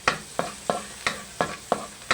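Garlic cooks in star margarine in a pan, heard as a soft sizzle broken by about seven evenly spaced scraping strokes of a utensil, with no voices.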